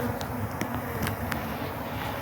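Honey bees humming steadily around an open hive during a Taranov split, a close, continuous drone with a few brief louder passes, no voices.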